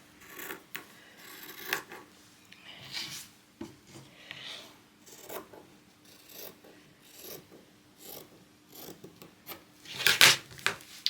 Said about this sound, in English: sometimes with gingham it's better just to cut it along the actual line itself